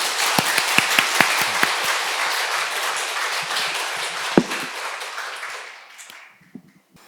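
An audience at a Sunday Dharma service at Gilsangsa temple applauds, a dense, loud burst of clapping that holds steady for several seconds before fading out.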